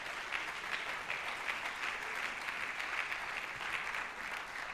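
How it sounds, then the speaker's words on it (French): A church congregation gives steady, continuous applause during a French-language service, a moderate, even patter of many hands clapping with no voices over it. "Donnons-lui une main d'acclamation ce matin."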